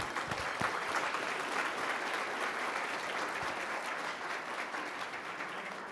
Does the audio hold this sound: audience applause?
yes